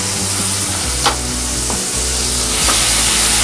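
Chili powder and garlic paste sizzle in hot oil in a pan over lowered flame, a steady close frying hiss with brief stirring scrapes, no talk.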